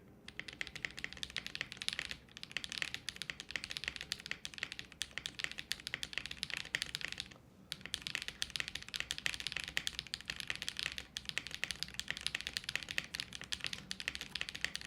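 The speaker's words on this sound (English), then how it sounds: "Yeah, the alphas sound deeper now, and then the spacebar sounds proper." Steady, rapid keystrokes on a $179 tenkeyless mechanical keyboard with a glass back, deep-sounding alphas clacking in a dense continuous stream, close and clear, with one brief pause midway.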